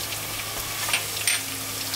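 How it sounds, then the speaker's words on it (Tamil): Onion and green chili paste sautéing in a pan for jackfruit biryani, a steady close sizzle with a few brief louder crackles and spatters. "பச்சை மிளகாய் பேஸ்ட்டையும் சேர்த்துடலாம். இது நல்லா வதங்கட்டும்."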